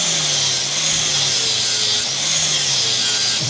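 Metal mounting part for a custom rigid Suzuki-engined bike being filed round by hand against a one-inch file guide, giving steady loud rasping strokes that run continuously.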